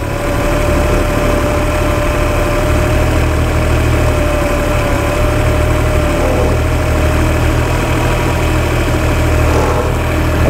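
A four-stroke engine idles steadily after carburettor synchronisation, its mixture screws set for the fastest idle, giving a loud, even, continuous drone with a faint whine and no voices.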